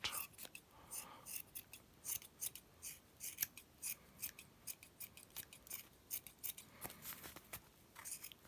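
Quiet snipping of blunt scissors trimming crochet yarn ends repeats in a steady run of short crisp cuts, close up and soft.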